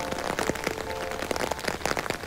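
Rain falls steadily in a close, dense patter with a constant hiss, fairly loud and continuous throughout, with no voices.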